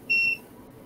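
A single electronic beep, a pure steady tone lasting about a quarter second, sounds loud and clear against a quiet room background.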